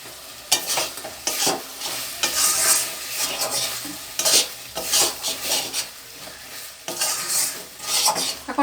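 Fried dried fish being stirred into a black taro curry in a pan: repeated loud, close scraping strokes of a spatula against the pot in bursts over a low sizzle, no talk.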